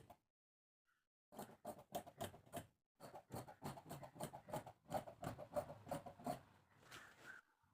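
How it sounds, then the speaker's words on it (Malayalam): Fabric being cut along a marked kurti neckline shape, a run of short rhythmic scissor snips with brief pauses, close and fairly quiet with no talk. "ഇനി നമുക്ക് ഇതേ ഷേപ്പിന് തന്നെ അങ്ങ് കട്ട് ചെയ്തെടുക്കാം"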